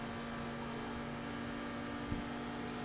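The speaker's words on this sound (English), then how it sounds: "I hear the engine back there." A race car engine on the Nürburgring Nordschleife drones steadily from behind, a constant low hum with an even tone and no talking, holding one level throughout.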